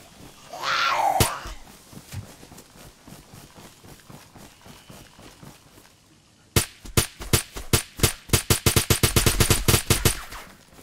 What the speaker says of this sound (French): j'ai envie de mettre au moins 10 balles